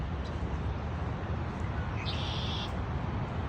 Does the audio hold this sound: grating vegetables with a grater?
no